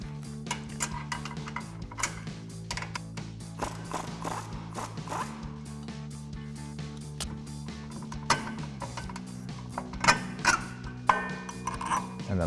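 Metallic clinks and ratcheting taps of a 21mm socket and wrench working suspension bolts on a Jeep Gladiator JT axle, irregular close knocks and scrapes over a low steady hum.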